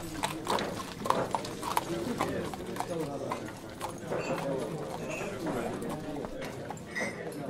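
Horse hooves clip-clop in a steady rhythm as a horse-drawn carriage moves along, heard under voices talking.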